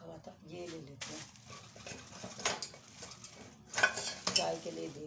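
A small cooking pot for tea handled on a stove while preparing breakfast: scattered metallic clinks and scrapes come in uneven bursts, with someone talking over much of it.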